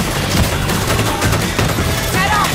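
Video game gunfire in a control-point match: dense, loud bursts of automatic shots fill the whole stretch, near and continuous, with game noise layered underneath.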